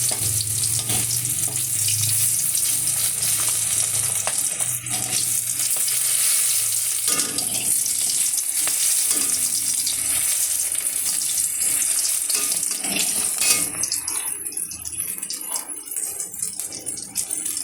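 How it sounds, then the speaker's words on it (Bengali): Pieces of rohu fish frying in oil in a wok, a loud steady hiss and crackle running throughout, with occasional clinks and stirring sounds as the pieces are moved. "এই নিয়ে আমি রুই মাছের লাইজাটাকে সুন্দর করে ভেজে নিচ্ছি।"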